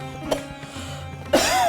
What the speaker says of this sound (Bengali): কেন কাশছো কেন?